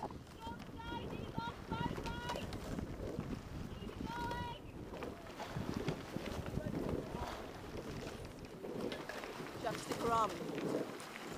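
Rhythmic splashing of rowing boat oars pulling through water during a Bumps race, steady and close, with wind buffeting the microphone and a few scattered bird chirps.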